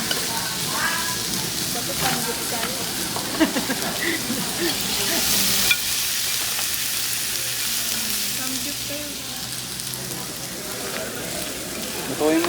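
Meat sizzles steadily in a hot pan, a continuous loud frying hiss with occasional stirring scrapes, while people talk casually nearby over the cooking.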